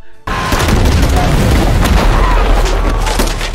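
Loud, sustained battle barrage from the war film Hacksaw Ridge, with booming explosions and gunfire packed densely together after a brief quiet opening, continuing without letup to the end.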